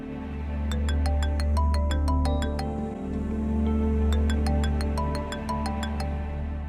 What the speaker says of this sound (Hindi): ये आरफा आंटी की मुझे क्यों कॉल आ रही है?